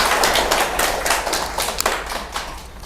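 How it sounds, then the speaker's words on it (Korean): Applause from an audience at an elementary science program briefing, a dense, steady patter of many hands clapping close by, fading slightly toward the end, with no talk. "박수 한번 다시 부탁드립니다"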